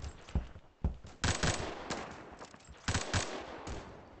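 Gunfire in the Roblox shooter Phantom Forces, several sharp bursts of automatic shots at irregular intervals, fairly close and loud against a quiet background.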